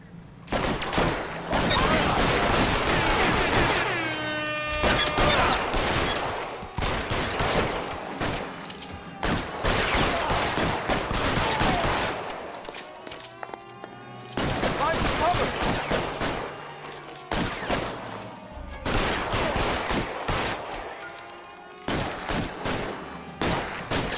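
A shootout in L.A. Noire erupts in sustained, dense gunfire: rapid bursts and volleys of shots crackle almost continuously with brief lulls, voices and shouting occasionally breaking through the barrage.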